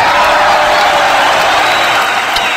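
A TV studio audience claps and cheers to welcome a guest, a loud, dense wash of applause that stays steady for the whole stretch, with no clear voice above it.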